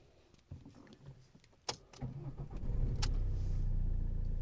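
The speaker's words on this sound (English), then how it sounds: "I've started the Mondeo up 5 times and it started straight away" A Ford Mondeo is unlocked with a few clicks, then its engine cranks briefly and catches, settling into a steady, close idle that continues to the end.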